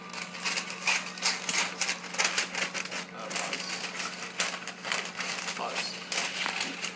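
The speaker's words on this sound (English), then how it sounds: "You get your scissors and cut all the way around." Scissors cutting around grease paper laid on a cake pan for a classic black Christmas fruit cake, a steady crinkly snipping and rustling close by over a low hum, with no talk.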